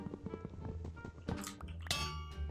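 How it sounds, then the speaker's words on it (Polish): In a Minecraft minigame, an anvil falls onto a player's head with a series of close, bright metallic clangs and dings. A sharp, ringing strike lands near the end of the short burst. "kowadło mi spadło na głowę"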